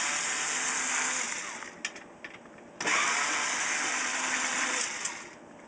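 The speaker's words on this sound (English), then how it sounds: "We're going to take out all these screws now." Electric screwdriver with a T10 bit backing screws out of an Xbox 360 motherboard, whining in high-pitched bursts with short pauses and clicks between them, close and moderately loud.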